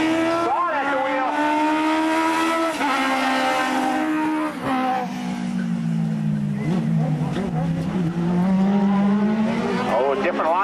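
Race car engine at Tosa Raceway Park, loud and continuous with rising and falling revs as the driver shifts gears, close and dominant throughout, with commentary voices faintly mixed in.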